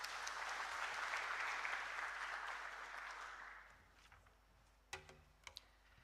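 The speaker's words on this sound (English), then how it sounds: "A warm round of applause" A warm round of applause from an audience at a university job fair greets an introduced guest, a broad crowd clapping that swells, holds, then fades out, followed by a few scattered sharp knocks.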